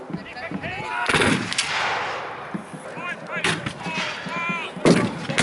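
Several loud musket shots crack one after another at a Civil War battle reenactment, sharp blasts with rumbling echoes between them, close and forceful.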